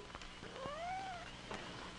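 A kitten gives one clear, close rising-and-falling meow over faint background noise.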